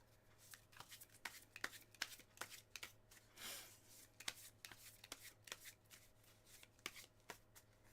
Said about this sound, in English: Shuffling new questions in the meantime.